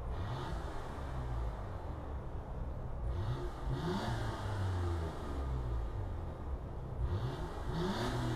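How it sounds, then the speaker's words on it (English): A car engine in Gran Turismo 7 revs and drones with rising, falling pitch sweeps, fairly quiet and synthetic-sounding, over a steady background hum. "Hear that engine."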